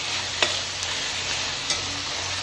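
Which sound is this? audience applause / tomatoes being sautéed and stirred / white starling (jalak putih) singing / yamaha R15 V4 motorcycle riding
tomatoes being sautéed and stirred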